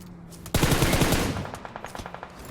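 Rapid automatic gunfire in PUBG Mobile, a sustained burst of close, loud shots fired at a vehicle, tapering into scattered separate shots toward the end.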